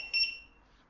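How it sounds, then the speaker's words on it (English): An MDC Smart Trap Alarm gives a short, sharp electronic beep just after its four AA batteries go in, one clear tone that briefly stands alone in a quiet room before fading. "wait for the 2 beeps"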